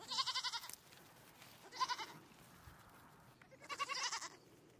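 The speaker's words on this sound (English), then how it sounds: "Right now it's breeding season for the goats" Goats bleat on a farm during breeding season, three separate wavering calls spaced a second or two apart, fairly close over a quiet background.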